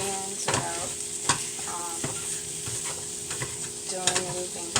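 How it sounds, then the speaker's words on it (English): Scallions sautéing in a pan on a stovetop give a steady close sizzle, with scrapes and clinks of stirring breaking in now and then; no one speaks. "I just wanted to saute the scallions"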